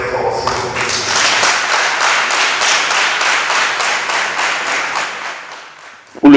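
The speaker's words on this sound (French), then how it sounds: "je vous prie d'applaudir très fort." Sustained crowd applause at a traditional installation ceremony, dense and loud with rhythmic clapping running for several seconds before fading, followed by a brief loud burst at the end.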